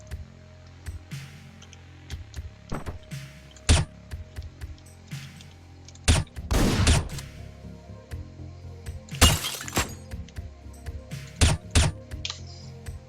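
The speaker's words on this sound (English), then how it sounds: "This character's gimmick is he starts with a silenced pistol." A silenced pistol fires in the video game Axiom Verge 2: sharp muffled pops scattered irregularly over soft game clicks and a low electronic hum.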